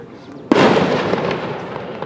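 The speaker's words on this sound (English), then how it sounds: "They want some fireworks off." Fireworks go off nearby on a street in Naperville, Illinois, one loud sharp blast followed by a long crackling, rumbling decay that fills the rest of the clip, with no talking.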